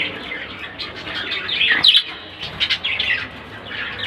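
Several pet budgerigars, two pairs kept in a cage, chirp and twitter in quick, overlapping bursts close by, with a brief louder flutter of calls midway and no talking.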